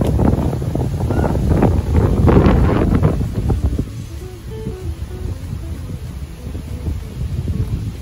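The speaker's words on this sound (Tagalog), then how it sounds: "sarap ng hangin dito" Wind on a mountain hiking trail buffets the microphone with low rumbling gusts, strongest early on and easing to a steadier breeze, with faint outdoor sounds beneath.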